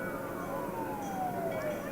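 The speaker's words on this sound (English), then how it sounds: "Comes a fire engine from the town of Easton." A fire engine from the town of Easton, an old Mack, rolls by in a town anniversary parade in Wilmington, Massachusetts, its siren wailing steadily and slowly falling in pitch over a constant outdoor rumble.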